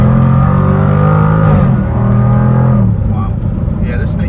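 Jaguar F-Type R accelerating hard in second gear while merging onto a highway, a loud, continuous engine roar climbing in pitch for several seconds before easing, with a voice speaking over it.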